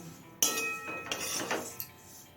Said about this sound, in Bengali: এবার লো ফ্লেমে এই ওটসটা ভেজে নেব